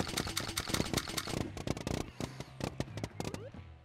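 Rapid gunfire from a weapon in the VR game Rec Room, with dense bursts of sharp shots that break into quicker separate cracks, fairly close and loud throughout.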